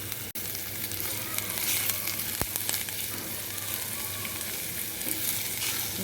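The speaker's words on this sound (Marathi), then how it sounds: "छान तडतडू द्यायचं आहे जिरं मोहरी." Cumin and mustard seeds crackle and sizzle steadily in hot oil, with onion added to the pan; the frying is close and continuous, with one sharp tap partway through.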